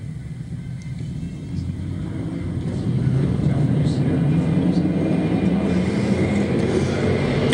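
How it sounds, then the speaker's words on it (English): Sportsman stock cars roar down the front straightaway of an oval track, a loud steady engine drone that swells after a few seconds and holds, with faint commentary blended in. "They drag race down the front straightaway up into turn number 1 and 2."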